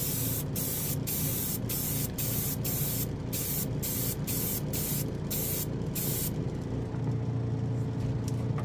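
An airbrush sprays paint onto a plastic model kit inside a spray booth. About a dozen short, even hissing bursts come in a quick rhythm over the booth's steady fan hum, and a few softer hisses trail off at the end.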